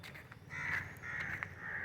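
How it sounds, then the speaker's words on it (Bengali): Crows caw repeatedly at dusk as they fly home to roost, harsh calls coming in several bursts at a moderate distance over a low outdoor hum. "পাখিগুলো সব নিজের নিজের ঘর যাচ্ছে"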